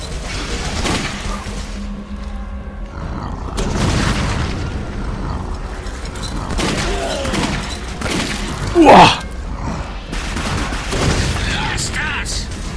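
Gunfire and explosions in the shooter game Clive Barker's Jericho: repeated booming shots and thuds over a rumbling battle background, with a sharper burst near the end and a player talking over the action.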